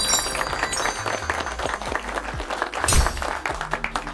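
Applause and clapping from a crowd, a dense, continuous patter of many hands held at a steady level throughout, with a brief louder burst near the end.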